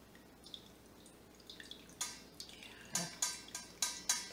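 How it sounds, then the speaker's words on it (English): Water from soybean curd for homemade tofu drips through cheesecloth into a bowl, close and alone, starting as sparse soft drips and building to sharper, louder splats about every half second. "see the water is getting strained in the bowl while I do this"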